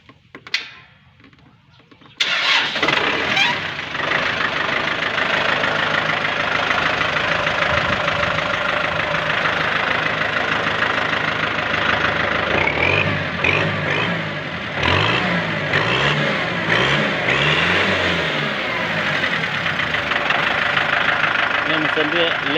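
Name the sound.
Kubota M6040 tractor engine starting and idling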